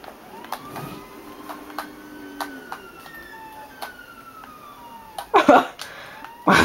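A synthetic police siren in GTA V wails and sweeps in pitch, punctuated by sharp clicks and a few loud bursts near the end.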